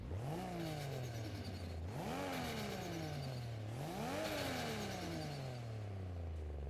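Modded car engine in Forza Horizon 5 revs hard three times in a row, each sharp rise in pitch falling back slowly to a low throb, loud and close with no talk.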